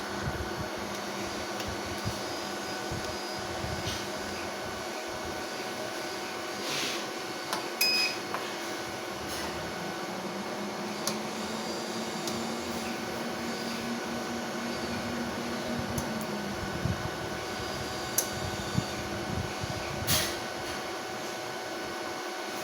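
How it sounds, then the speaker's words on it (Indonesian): A 6kW 48V low-frequency hybrid inverter hums steadily after switch-on, a faint constant electrical drone with a few brief clicks and ticks over it. "di sini inverter akan kita nyalakan ya"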